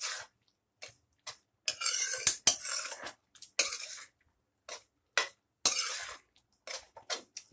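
A spoon stirs carrot halwa in a pan, making intermittent scraping and clinking strokes against the metal. The strokes come in short irregular bursts separated by brief silences, close and moderately loud.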